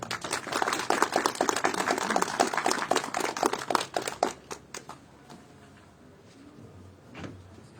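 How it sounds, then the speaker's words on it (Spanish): An audience at a Spanish-language lecture on restoration applauds, a dense burst of clapping that thins out after about five seconds into scattered claps and room noise. "Recibamos con un fuerte aplauso"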